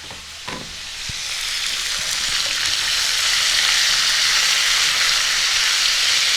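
Potatoes, tomatoes and slit green chillies hit hot oil in a pan for rui fish curry, building from a quiet start into a loud, steady sizzle that holds to the end.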